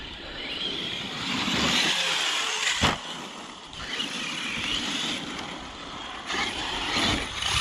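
A Mojave truck's engine drones under throttle, a loud continuous rumble that rises and falls as it accelerates, with occasional clunks and knocks from the vehicle.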